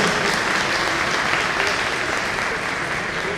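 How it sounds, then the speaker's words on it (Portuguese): A round of applause for Dr. Junjun at a panel on cannabis legalization in Uruguay: loud, dense clapping from a crowd that runs continuously from start to finish without any talk. "Dr. Junjun recebendo uma salva de palmas."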